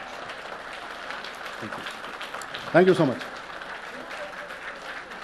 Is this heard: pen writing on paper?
no